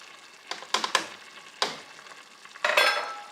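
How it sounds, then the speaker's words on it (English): A spoon stirs cold milk with arrowroot in a pan, giving a few scattered scrapes and clinks against the metal, then a longer swishing stir at the end, close and quiet with no voices. "and give it a good mix"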